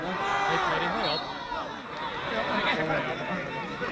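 A football crowd at a 2007 Border Cup match between Comber Rec and Abbey Villa waits for the final whistle, making a steady, dense murmur of distant voices and chatter with someone talking over it throughout.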